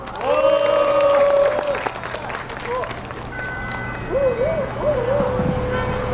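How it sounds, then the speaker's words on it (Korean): A crowd at an outdoor construction workers' rally at Suwon Station claps steadily for several seconds while tonal music and voices carry over the applause. "힘찬 박수로 맞아주시기 바랍니다"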